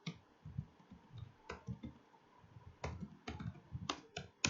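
A computer keyboard being typed on in short, irregular bursts of close clicky keystrokes with brief pauses between them, fairly quiet, with no talking.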